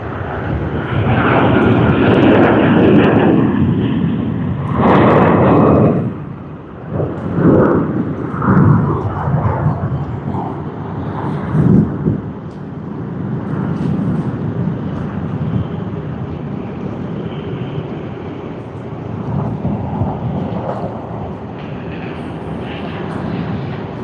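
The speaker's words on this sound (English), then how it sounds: "we have Philippine Airlines service to Manila, which has just come here around the corner." A Philippine Airlines jet bound for Manila taxis around a corner at Sydney Airport in the early morning, its engines giving a loud rumbling whine that swells and dips throughout.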